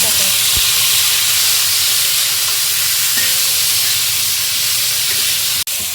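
Vegetables and tomato fry in a hot pan for set dosa, giving a loud, continuous hiss and sizzle with a few faint clinks of stirring.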